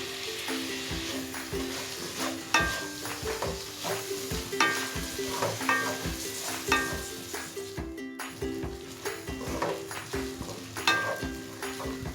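Tomatoes go into a hot pan of frying lauki chana dal and get stirred, a steady close sizzle broken by repeated scraping stir strokes, with no talking.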